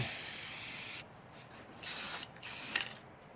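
Three bursts of loud hissing aerosol spray paint onto a styrofoam model, separated by short pauses, with faint clicks and rattles from the can in between.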